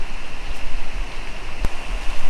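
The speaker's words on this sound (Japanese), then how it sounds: "さあ、滝の近くに来ましたよ。" A waterfall beside a historic stone bridge in Misato, Kumamoto, gives off a steady, close rushing roar of falling water that holds evenly throughout, with one brief sharper splash-like burst partway through.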